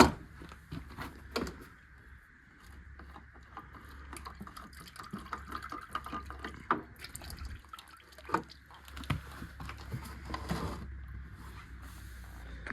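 Used oil drains from a John Deere lawn mower in a steady trickle of drips and liquid splatter, faint and close, with no talking over it.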